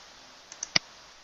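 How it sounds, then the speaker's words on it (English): A computer mouse clicks a few times while navigating to Google Drive, with two faint clicks followed by one sharper, louder click, close and alone. "So click on Drive."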